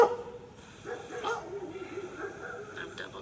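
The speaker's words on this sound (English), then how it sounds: "the dogs across the street are gonna bark for us" Dogs across the street yip and bark at a distance, faint and intermittent, while someone talks in a backyard.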